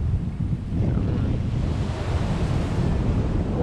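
Sea waves wash onto the shore in a steady, dense roar while strong wind buffets the microphone throughout, loud and close, with no voices.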